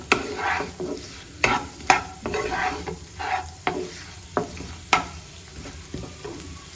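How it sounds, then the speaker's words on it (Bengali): Coconut frying in hot oil in a wok, with a steady close sizzle and repeated sharp scraping strokes of a spatula stirring it at an even rhythm. "কড়াইতে তেল গরম হয়ে গিয়েছে এর মধ্যে আমি নারকেলটা দিয়ে দেবো"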